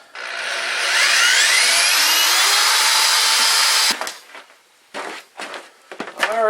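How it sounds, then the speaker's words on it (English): Power drill boring a hole through a steel kettle with a 3/8 inch bit for an electric keggle build. A loud, steady high whine runs about four seconds, then stops, followed by short scraping bursts and clatter. "Used a 3/8 inch drill bit, and basically did the hole, and then just kind of worked my way back and forth."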